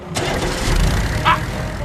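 A vehicle engine cranks and catches in the video game Knack, a brief mid-pitched mechanical starting rumble with a short bright clank near the end.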